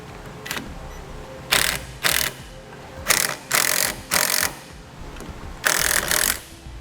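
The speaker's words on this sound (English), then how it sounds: "attach our 6-pole connector to the prongs that are provided on our base plate using the self-tapping screws" Several short bursts of a power driver sinking self-tapping screws into a vehicle base plate while a 6-pole connector is attached to its prongs, each burst loud and close, separated by brief pauses.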